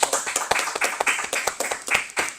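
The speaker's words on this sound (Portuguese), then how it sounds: "Uma salva de palmas a Jesus!" Clapping at a podcast taping after a call for applause for Jesus, a small group of hands beating quick, fairly even claps close by, with no voices.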